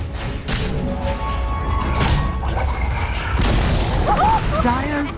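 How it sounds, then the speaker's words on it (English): The Dire top tower collapsing in a Dota 2 match: heavy booming crashes and rumbling impacts over busy game effects, with a game announcer voice speaking. "Dire's top tower has fallen."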